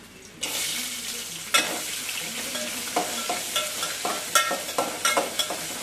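Onions frying in a pan for gongura pulao give a steady close sizzle, broken by repeated sharp scraping stirs of a utensil against the pan.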